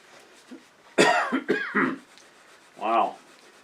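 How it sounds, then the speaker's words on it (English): A person gives a few dry, rough coughs, two close together, then another brief one and a final separate cough, near and fairly loud in an otherwise quiet room. "I think I have a dry cough and a fever."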